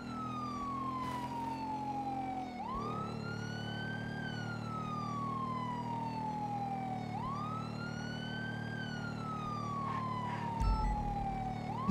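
A police car siren in GTA V wails in a slow rising and falling cycle, loud and continuous, over an engine's steady drone, with a brief thump near the end.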